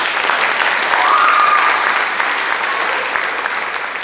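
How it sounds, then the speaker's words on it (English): Audience applause for 7th and 8th grade school band students at a spring symphonic band concert, a dense steady roar of many hands clapping that fills the whole stretch without a break. "So round of applause for them, they rock."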